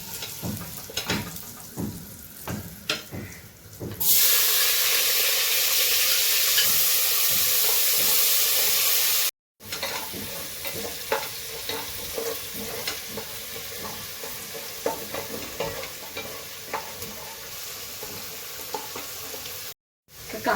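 Onion goes into hot oil for mutton vada, bursting into a loud, steady hiss that carries on with scraping stirs and clinks throughout, close up, with two brief cuts to silence and no talk.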